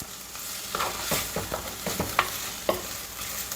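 Chilli powder frying in a pan while a Telugu-style prawn curry with chukka kura greens is cooked, with a steady close sizzle and several sharper spatula stirs and scrapes throughout, no talk.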